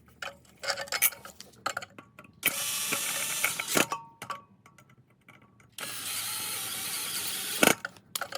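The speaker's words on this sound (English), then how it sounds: "We're gonna wait until we get all the screws in before we tighten it completely." Screws being driven and tightened into the replacement bowl of a Chicago Electric 18 lb vibratory tumbler, with small ratcheting clicks and handling knocks, plus two long bursts of steady whirring from a tool close by.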